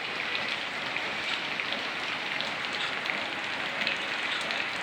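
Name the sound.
rain falling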